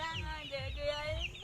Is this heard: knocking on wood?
no